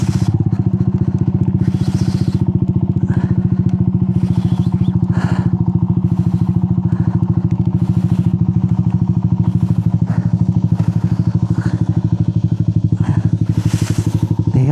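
A motorcycle on a rough dirt trail in General Nakar, Quezon, with a bike not built for off-road riding and soft rear shock rebound. Its engine drones loud and steady throughout, with scattered clatters and thumps from the bumpy ground.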